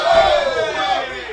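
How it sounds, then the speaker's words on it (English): A tournament crowd at a fighting game event roars and cheers in a brief loud swell that fades slightly, with voices blended into the shouting. "I'm just enjoying the crowd"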